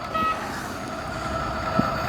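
A cheap 1/16-scale toy RC kei pickup truck plays an electronic engine sound: a steady, close, buzzing hum with faint tonal beeps, lasting about two seconds without pause.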